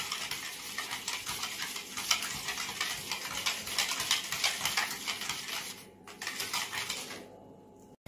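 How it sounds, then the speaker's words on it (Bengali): Yogurt and sugar beaten by hand in a bowl make a rapid, rhythmic clinking and scraping that runs steadily and close, then stops near the end. "এইভাবে হাত দিয়ে ফেটাতেই থাকবে, চিনিটা সম্পূর্ণভাবে দইয়ের সাথে মিশে যায়।"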